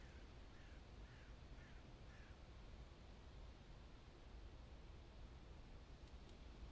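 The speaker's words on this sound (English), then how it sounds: "There's a bird." A bird, likely a crow, gives a short series of about four cawing calls early on, faint and somewhat distant over a steady wind-like background hiss, then fades out.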